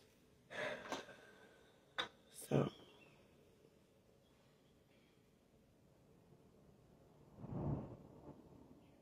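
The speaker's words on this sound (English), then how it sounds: "This thunder not that bad." Thunder rolling outdoors, heard as a few separate muffled rumbles and cracks spread across the stretch, moderately loud against a quiet background with faint rain-like hiss.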